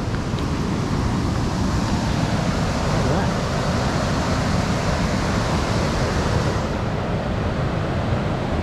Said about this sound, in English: The water's coming down very fast.